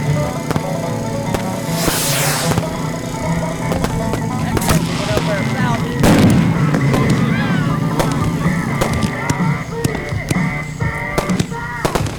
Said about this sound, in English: Fire at will, guys. Fire at will!